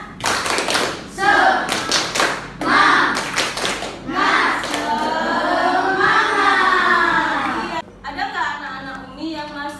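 A classroom of children performs the rhythmic tepuk semangat clapping chant, with crisp grouped claps in quick bursts and kids' voices chanting along, then ongoing group vocalizing.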